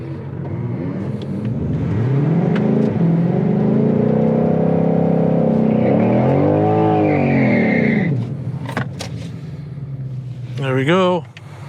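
A 2021 Mustang GT500 launching down a drag strip, its engine roaring and climbing through the gears with shift dips, loud and close for most of the run before easing off.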